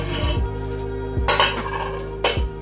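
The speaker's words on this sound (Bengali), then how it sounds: "এখন আমি হাঁড়ি ঢাকনাটা খুলে নিব" A metal lid comes off a cooking pot of vegetable khichuri in a home kitchen, giving two sharp metallic clanks with a soft ringing rattle after each, close and clear over a low steady hum.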